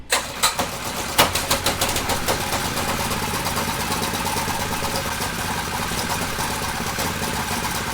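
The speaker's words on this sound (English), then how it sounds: "Choke, fuel on, throttle up." A gasoline engine powering a gaming PC fires up after a few quick pulls and then settles into a loud steady running clatter, close by with no talk.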